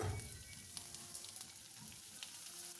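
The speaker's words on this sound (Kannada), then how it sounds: "ಒಂದು ಪಾತ್ರೆಯಲ್ಲಿ ಸ್ವಲ್ಪ ಎಣ್ಣೆ ಹಾಕ್ಕೊಂಡು ಈರುಳ್ಳಿನ ಹಾಕ್ಕೊತಾ ಇದ್ದೀನಿ. ಈರುಳ್ಳಿನ ಫ್ರೈ ಮಾಡ್ಕೊಳ್ಳೋಣ." Onions and fresh ginger frying in oil in a cooking pot, a steady soft sizzle with faint crackles and a few light stirring clicks, close and fairly quiet, no voices.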